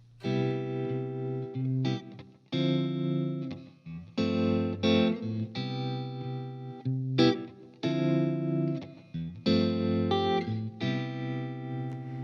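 Electric guitar vamps on a repeating pair of chords, struck in short rhythmic bursts with brief gaps, processed with effects, no voices.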